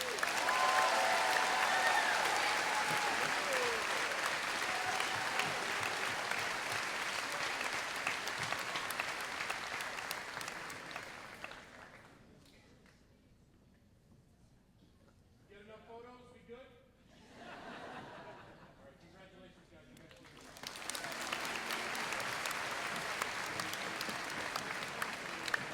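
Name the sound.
audience applause for graduating students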